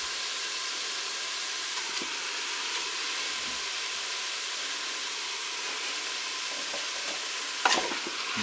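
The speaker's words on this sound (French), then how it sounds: "maintenant je vais ajouter mes spaghettis dans la cuve du Cookéo" Spaghetti going into a Cookeo multicooker pot, with a constant hissing sizzle and faint stirring scrapes, and one sharp clack near the end.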